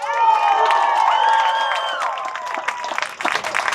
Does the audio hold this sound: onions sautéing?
no